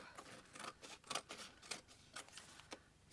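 Scissors trimming cardboard packaging for a handmade file folder, about eight crisp snips in an uneven rhythm, close and quiet with no talking.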